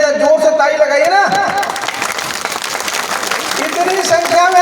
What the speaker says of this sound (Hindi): उनका अभिनंदन करने के लिए जोर से ताली लगाइए ना